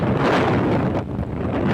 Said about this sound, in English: Typhoon Rai blasted ashore with wind gusts as fast as 300 kilometers per hour